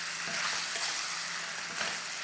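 Chicken pieces for three-cup chicken stir-fry in a clay pot, giving a steady close sizzle broken by a few soft scraping stirs, with no voices.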